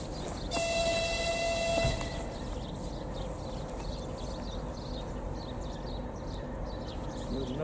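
A passenger train at a railway passing loop, with a horn-like tonal blast early on over a steady, loud rumble of rolling wagons that continues throughout.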